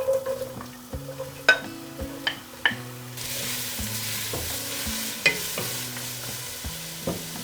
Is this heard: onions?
yes